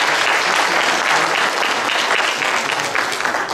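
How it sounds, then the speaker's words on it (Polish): An audience at a music school's student induction ceremony and performance applauds in a dense, steady wash of clapping. The applause is loud and continuous from start to finish. "Wielkie brawa dla dziewczyn."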